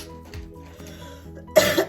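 A sick person coughs once sharply near the microphone, a brief harsh burst that follows quiet rustling at a desk.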